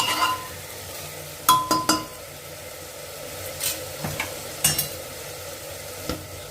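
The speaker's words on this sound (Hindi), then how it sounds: "एक बार और अच्छे से चला के मिला लें।" A spoon stirs cooked masala for suran (elephant foot yam) sabji in a pan, giving soft sizzling with several sharp scrapes and clinks against the metal, spaced irregularly and close up, with no talk.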